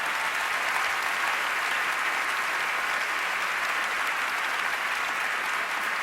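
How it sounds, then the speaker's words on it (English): Audience applause at the 2012 Emmy Awards ceremony, a large crowd clapping loudly in a hall, sustained and even for the whole stretch with no talking. "Can we give them a round of applause, please?"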